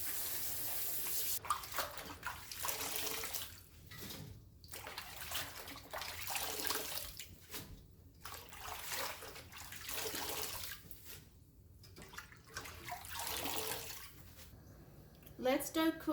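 Chinese broccoli swished and rinsed in a basin of water, splashing and sloshing in bursts with dripping and running water, close by, under faint background speech.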